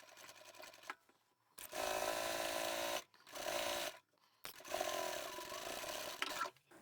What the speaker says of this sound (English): I'm going to sew down both these long edges here because there's so much bulk in the side seams